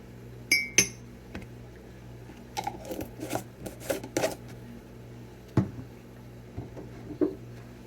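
A spoon scrapes and clinks against a glass jar of almond butter in a kitchen, with scattered sharp taps and soft scooping sounds spread over several seconds, no voices.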